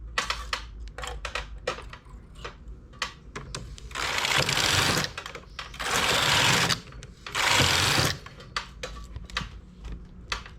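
Knitting machine carriage sliding across the needle bed in three long, loud sweeps of a second or so each, mixed with sharp clicks and taps from needles and hooks being set between passes.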